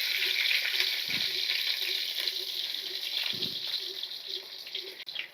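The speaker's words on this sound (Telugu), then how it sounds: "ఇలా చీలికలుగా చీరుకున్న ఒక ఉల్లిపాయ అండి ఇది వేపుకోవాలి" Sliced onion frying in a pan on a village wood-fire stove, a steady loud hiss and sizzle with a couple of soft knocks, no talk over it.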